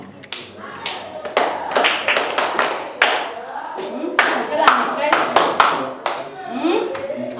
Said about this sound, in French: Et quand on applaudit pour la maîtresse, on fait comment?